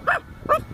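Two short, loud barking yelps from a human voice imitating an angry, hungry dog, one near the start and another about half a second later, with nothing else in between.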